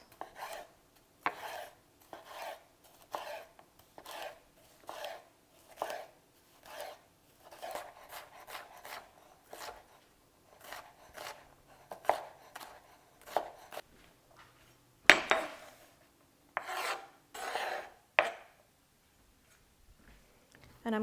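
A knife chops steadily on a cutting board, slicing hollowed-out pieces into small strips, each crisp tap landing close in a regular rhythm with short pauses between runs of cuts.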